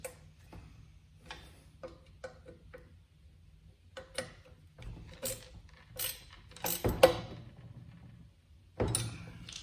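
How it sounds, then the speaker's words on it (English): Ratchet clicking in short bursts as nuts and bolts are tightened on a Weider XRS 20 weight bench during assembly, quiet and close with sparse ticking strokes and occasional metallic clinks. "tighten up all the nuts and bolts that we'll put in on previous steps"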